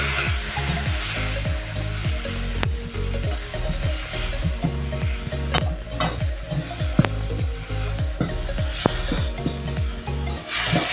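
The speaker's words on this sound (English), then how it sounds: "So now we are going to add in the tomatoes because we don't want our fish to burn." Blended tomatoes go into a frying pan with small fish, and the mixture sizzles loudly and steadily while a utensil stirs and scrapes in a quick repeating rhythm.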